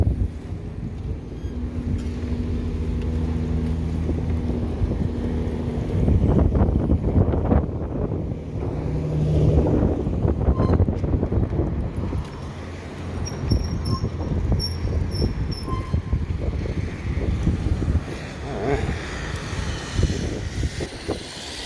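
Wind roaring past while riding an electric motorcycle, heavy buffeting gusts that swell and ease over a faint background hum, sustained throughout without talk.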